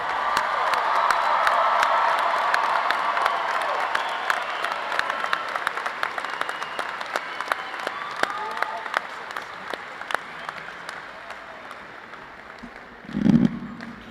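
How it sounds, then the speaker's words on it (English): A graduation crowd at a high school commencement applauds and cheers the class of 2026, dense clapping with whoops that starts loud and slowly thins out over fourteen seconds, ending in a brief low thump. "Let's give one more round of applause here for the class of"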